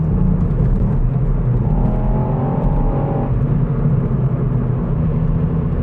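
A Ford Fiesta ST drives hard and accelerates, its engine note rising in a steady rumbling whir heard from inside the car, loud and continuous with no talk.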